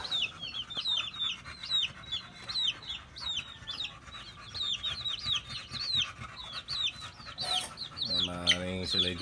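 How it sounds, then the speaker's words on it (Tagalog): Pet chickens gather close by, clucking in quick repeated, overlapping calls over a low hum of background noise, with a brief louder squawk near the end. "Nagsisilapitan ng ating mga alagang manok."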